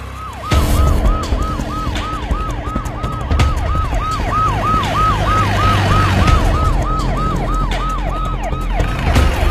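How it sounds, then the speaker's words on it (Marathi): A police siren wails nearby in a fast, regular rising-and-falling pattern, loud and continuous, with a low rumble beneath. "ते पोलीस सायरनच आवाज आला"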